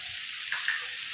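A paste of cumin, coriander, garlic and ginger is stirred in a hot pan for a Bengali-style mixed vegetable dish, with a steady sizzle and a few soft scraping strokes.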